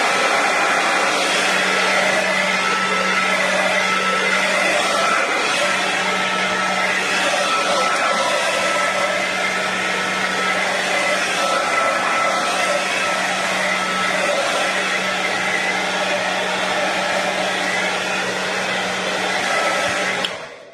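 Hair dryer blowing over a piece of artwork, a loud, steady, close whooshing roar with a constant motor hum that holds unbroken for about twenty seconds before cutting off at the end.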